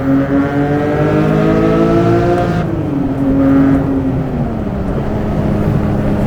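A loud Porsche 911 GT3 engine drones steadily on the highway, then its pitch drops as it downshifts at 5,000 RPM and settles into a lower, throaty hum.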